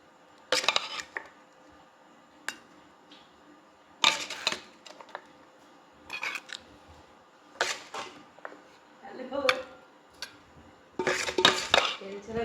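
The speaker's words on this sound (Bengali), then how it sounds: "তো ঘুগনিটা তো রান্না হয়ে গেছে, এবার প্রত্যেকের বাটিতে আমি বেড়ে নেব।" Cooked ghugni is served into bowls, with sharp clinks of spoons and dishes arriving in scattered bursts amid quiet pauses, close and fairly loud.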